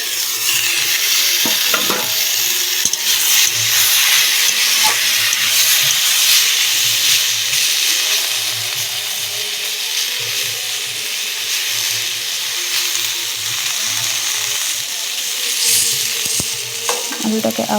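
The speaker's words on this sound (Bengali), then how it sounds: "তো এবার আলুটাকে একটু নাড়িয়ে নেব।" Potatoes stirred as they fry in a pan over a clay stove: a continuous loud sizzle and hiss with scraping strokes of the spoon repeating through the whole stretch.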